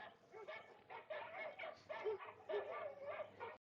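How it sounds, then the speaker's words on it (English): Dogs bark repeatedly in the background during a headset microphone test with a Jabra Evolve2 65, a quick series of yips and bow-wows picked up faintly and somewhat muffled. "This is what it sounds like with barking dogs in the background."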